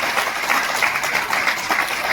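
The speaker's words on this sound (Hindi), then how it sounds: "अमित दुबे जी के लिए जोरदार तालियां।" Applause from an audience at a security leadership summit award ceremony, an even, dense stretch of clapping heard alone at fairly close range.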